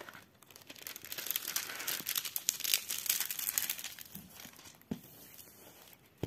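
Adhesive film peeled back from a diamond painting kit canvas gives a close, continuous crinkling and crackling that rises and falls, ending with a couple of sharp snaps.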